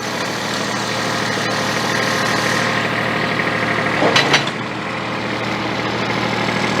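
A small tractor engine idles steadily and loudly up close, a continuous mid-pitched rumble with a brief clattering burst partway through, no talking over it.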